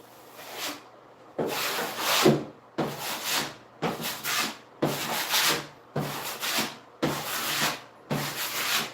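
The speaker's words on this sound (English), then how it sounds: "Now you gotta clean your trowel." Repeated rasping scrapes of a steel drywall mud trowel being cleaned, about eight rhythmic close strokes with short pauses between.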